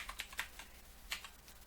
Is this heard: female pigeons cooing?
no